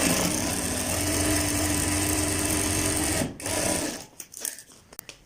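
A sewing machine stitches the sleeve of a child's kurta in a steady, fast whirring run for about three seconds, then slows and stops with a few short bursts and clicks.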